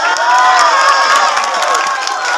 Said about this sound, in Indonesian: Tepuk tangan buat bapak-bapak.